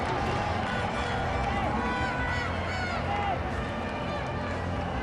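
Bangladesh supporters cheer at a cricket match in a tri-nation series: a dense, steady crowd roar fills the whole stretch, with voices mixed into the noise.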